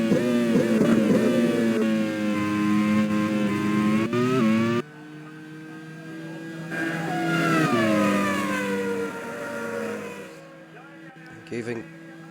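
Race car engines howling and shifting pitch as cars overtake in a racing video game at the Road America Grand Prix, with steady loud engine drone and rising and falling whines, under constant commentary talk.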